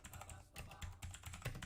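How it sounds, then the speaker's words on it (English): Quiet, rapid keystrokes on a mechanical computer keyboard, a close, even run of clicky taps with short pauses between bursts. "I have the mechanical keyboard out here today, so it's a bit loud"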